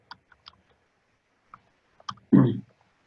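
A few sparse keystrokes on a computer keyboard, sharp clicks at irregular intervals in a quiet room, ending with one louder, fuller thump.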